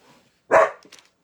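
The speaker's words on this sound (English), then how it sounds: "there's Sydney and Dudley barking." One loud, close dog bark followed by a softer short yip, with quiet indoor background before and after.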